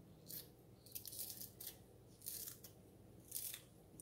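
Green onions are cut up with scissors or a knife over a pot of beef neckbone soup. A few quick crisp snips come in small clusters, quiet and close, with a faint background hum and no talking.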